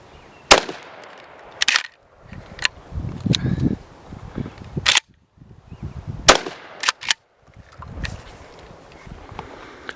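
DA Grizzly Remington 870 clone shotgun firing number 1 buckshot outdoors: several loud, sharp blasts spaced a second or more apart, with pump-action clacks and shuffling between shots.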